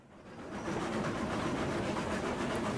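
In the Railroads Online video game, a steam locomotive hauls its train up a steep grade with a dense, steady rumbling chug that swells in over the first half-second, then holds even.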